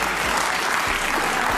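Talk show studio audience applauding, a dense steady clapping that fills the short stretch, loud and close with no voices over it.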